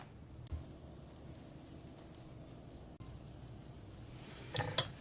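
Butter melts and sizzles in a non-stick skillet for potato cakes, a soft steady crackle running throughout at low level, with a couple of brief clinks near the end.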